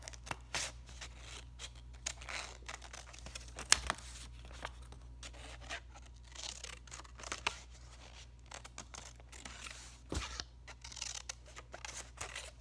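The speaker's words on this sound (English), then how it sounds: "Now I'm actually going to detail cut it." Small scissors snipping carefully around a little paper craft star, a series of short crisp cuts with irregular pauses between them, close and fairly quiet.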